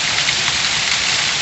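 Heavy rain pours down in Serra Talhada in the Pernambuco backcountry, a dense, even hiss heard close with no talk.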